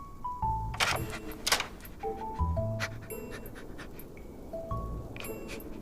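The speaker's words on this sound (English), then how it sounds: "He's the dog that lives on the campsite." A dog named Casey living at a campsite in a video game pants in short breathy bursts, with background melodic tones and a few thuds and jingles mixed in; no talk.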